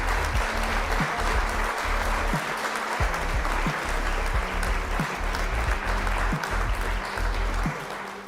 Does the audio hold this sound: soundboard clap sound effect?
yes